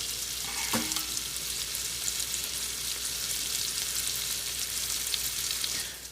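Food fries in a pan with a loud, continuous sizzle and crackle, close up and steady for the whole stretch, with an occasional scrape of stirring and no talking.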